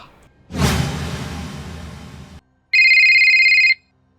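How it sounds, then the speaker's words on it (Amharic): A loud whoosh sweeps through, then after a brief silence a mobile phone ringtone sounds close and bright for about a second before cutting off. "ብሽቅ የሆነ ስልክ ማን እንደመረጥኩ እንኳን ሳላቅ ይቀሰቅሰኛል"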